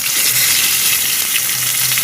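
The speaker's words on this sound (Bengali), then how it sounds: "দেখছেন মাথাটা ভাজা হচ্ছে।" Rohu fish head frying in a pan, a loud dense sizzle that holds steady throughout, close up with no talking.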